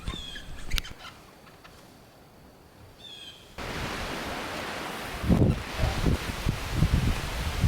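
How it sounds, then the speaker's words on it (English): Strong wind buffeting a very sensitive microphone outdoors at a house-building site, a steady low roar that swells and gusts louder in the second half, with faint rustling early on and no speech. "You can't hear me because of the wind."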